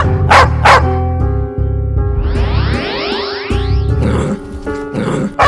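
A dog barks loudly and close, several sharp barks separated by pauses, mixed with other harsh tonal sounds and no talking.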